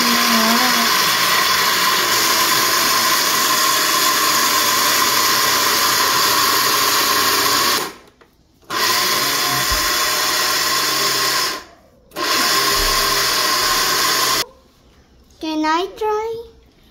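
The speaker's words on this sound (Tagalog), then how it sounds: "Ayan i-blender na natin yan." A blender grinds roasted cacao beans into chocolate powder, running loud and steady with two brief stops and restarts, and a voice is heard near the end.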